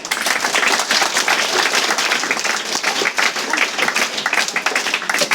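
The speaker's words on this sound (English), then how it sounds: "Give a big applause for them." School audience at a Wancho cultural dance competition claps loudly and continuously, a dense sustained burst of many hands filling the hall.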